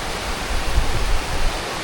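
Broadband rushing water of a river, steady and fairly loud, flowing continuously and alone with no voices over it.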